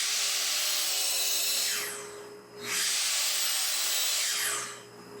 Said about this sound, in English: We're back here at the miter saw. We've got it pushed all the way over to 60 degrees